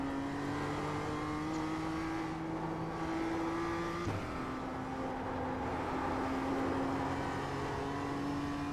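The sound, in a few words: BMW M2 CSR car engine in iRacing video game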